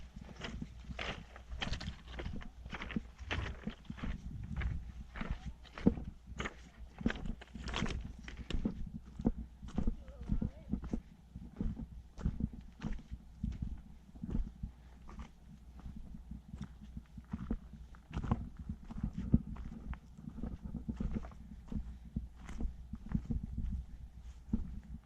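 Mountain goats walking close by on a rocky Colorado alpine trail, a steady run of soft, irregular hoof taps and scuffs over low wind rumble, with no talking.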